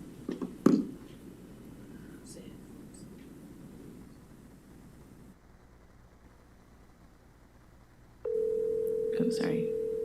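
A telephone line tone comes in partway through, a steady electronic hum on a call from a school board meeting room, following a stretch of murmured room sound.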